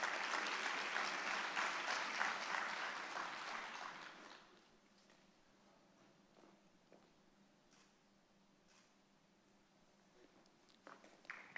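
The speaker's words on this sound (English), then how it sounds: "Another round of applause for Gigi Yancey." Applause rings out for a female award recipient at a sports awards show, loud and dense for about four seconds before fading to a quiet room with scattered faint sounds.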